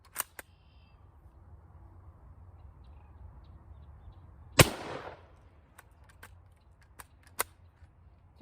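A single sharp rifle shot from surplus 1954/1955 Argentine/Ecuadorian 8mm ammunition rings out outdoors with a short decaying echo, standing alone against a quiet background with a few faint clicks before and after.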